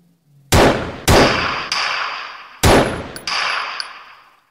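Gunshots from a Unity low poly first-person shooter game, five sharp, loud single shots with ringing tails, fired irregularly over a few seconds with silence between.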